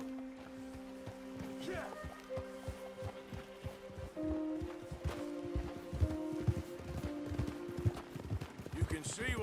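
Horse hooves plod in a steady, slow rhythm through Red Dead Redemption II, soft thudding footfalls under low sustained music tones and a voice talking.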